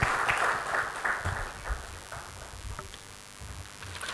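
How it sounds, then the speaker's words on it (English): Applause from a conference audience as a speaker is called to the stage at a security summit, a moderate wash of clapping in a hall that gradually thins out. "A big round of applause for him."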